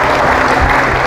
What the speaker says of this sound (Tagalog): Sa bawat palakpak nyo'y dumadaloy ang kapangyarihan ng Panginoon.